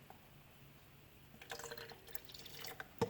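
Coffee poured into a container in a kitchen, a faint, soft trickle and splash that starts midway and grows a little, ending with a small clink.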